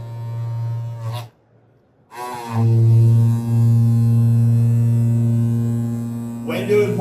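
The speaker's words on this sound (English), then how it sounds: "That machine is both vibrating and thumping at the same time." Tile vibrating machine pressing porcelain tile into wet thin-set mortar in a shower, a loud steady electric buzz that cuts out briefly, then resumes with uneven thumping pulses inside the hum.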